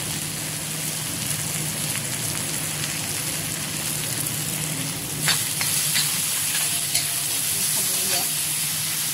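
Gram flour stirred into tomatoes frying in a pan for green bean bhaji: a close, continuous oily sizzle and crackle with a high hiss, and spoon scrapes growing more active in the second half.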